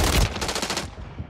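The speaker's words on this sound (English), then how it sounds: "I get shot in the back, dude." Rapid automatic gunfire in Call of Duty: Warzone, a close, loud burst of about eight quick shots in steady rhythm that cuts off abruptly and leaves a short echoing tail.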